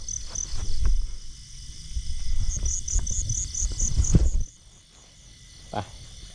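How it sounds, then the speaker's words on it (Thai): Crickets chirp at night in a rice field, a shrill pulsing trill close by over low rustling and handling noise, fading to quieter background chirping near the end. "อ่ะอย่างน้อยก็มีจิ้งหรีดครับ นี่ จิ้งหรีดครับผม"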